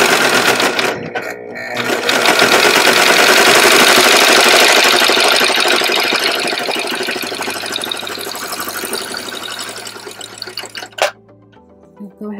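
A serger sewing machine stitching down the edge of fabric for a snack bag, a loud, steady, rapid mechanical whirring that runs continuously for about ten seconds before stopping abruptly, heard close up.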